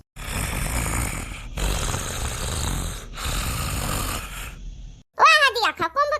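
A person snoring loudly in a rural home at night, long rasping breaths repeating in a slow rhythm for several seconds, followed by a brief burst of louder voiced snorts or groans at the end.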